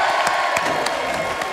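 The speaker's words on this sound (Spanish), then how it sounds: "aplauso sí. Para Tomasita, siempre caballero" A carnival audience claps and cheers for a performer named Tomasita, a short burst of crowd applause with scattered whoops, fairly close and steady throughout.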